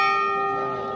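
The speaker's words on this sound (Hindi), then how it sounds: "अभी हम लोग आरती कर रहे हैं तो फटाफट चलते हैं और घंटी बजाते हैं।" A temple bell rings at Kedarnath during the evening aarti in cold weather, a single struck tone with a long shimmering decay that sustains loudly throughout.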